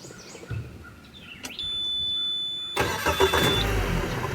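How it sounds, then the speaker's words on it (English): A Suzuki outboard motor on a catfishing boat on Lake Barkley kicks in after a brief high whine, settling into a close, steady engine roar over faint background noise. "Oh, that Suzuki motor too."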